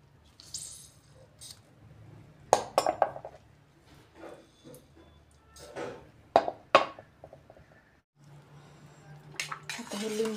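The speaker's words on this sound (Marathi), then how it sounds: "मग आपण चमच्याने हे सर्व ढवळून घेणार आहे दूध" A spoon stirs hot milk with squeezed lemon in a metal pot, giving irregular bursts of clinks and scrapes, some quick and clustered, with quieter gaps between them.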